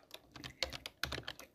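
Short burst of typing on a computer keyboard while entering Python code, a handful of close, crisp key clicks in two quick clusters, with no voice.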